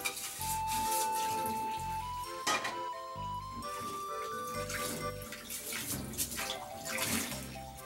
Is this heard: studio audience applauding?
no